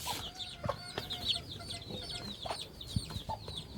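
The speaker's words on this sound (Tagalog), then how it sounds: "Ibon, manok." Several chickens cluck and chatter close by in a lively, overlapping stream, with occasional sharper calls standing out.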